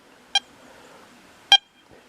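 An XP Deus 2 metal detector gives two short, sharp beeps over scattered iron pieces, about a second apart, with faint background hiss and no talk.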